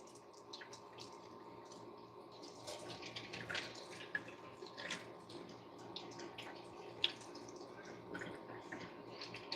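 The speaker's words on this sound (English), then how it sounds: "you can pour hot water on salmon" Hot water poured over salmon to loosen the skin: a faint, steady trickle and patter with small drips and splashes, close by and without talk.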